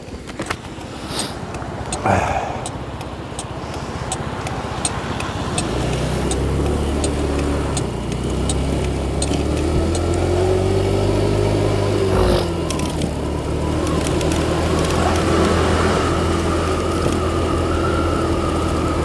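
A motorbike rides along a road on a journey back from Carlisle, its steady engine drone and wind rumble continuous and close throughout, with a rising engine tone in the middle as it pulls away.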